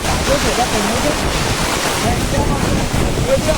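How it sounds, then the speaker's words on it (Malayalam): Loud, constant roar of strong storm wind buffeting the microphone, mixed with rushing heavy rain, close and unbroken throughout. "നല്ലൊരു കാറ്റുണ്ട്."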